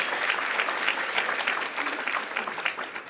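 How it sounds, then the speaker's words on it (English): Sustained applause from an event audience at a community gathering on healing from trauma, steady clapping filling the whole stretch without speech over it. "Let's give her a round of applause."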